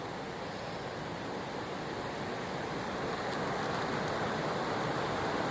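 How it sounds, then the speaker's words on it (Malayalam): Continuous broadband rushing of a river flowing far below in a forest, steady and even with no voices. "പുഴ അങ്ങ് താഴെ ഒഴുകുന്ന കേൾക്കാം."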